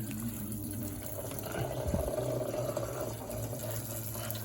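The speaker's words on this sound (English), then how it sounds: "We've got coolant coming out." Engine coolant trickles and drains steadily out of a disconnected car coolant hose, a continuous close watery flow with low background rumble throughout.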